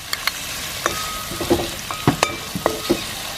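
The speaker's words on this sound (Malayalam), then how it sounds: "സാധാരണ പോലെ തന്നെ എല്ലാതും ഇട്ടിട്ട് നമ്മൾ വഴറ്റാൻ പോവാട്ടാ" Onion, chilli powder and crushed ginger sautéing in a pan for a Kerala-style beef roast, a steady sizzle broken by a series of sharp clicks and scrapes from stirring, close by with no talk.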